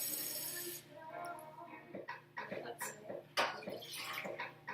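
Water splashes and trickles into a measuring cup in short bursts, close by, with clinks and small drips between pours.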